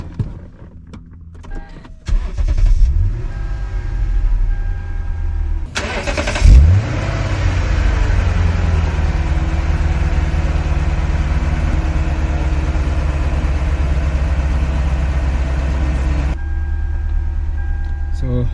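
A 2008 Lexus GS460 4.6-liter V8 engine cranks and catches, then settles into a steady, low rumbling idle that runs on for several seconds before cutting off.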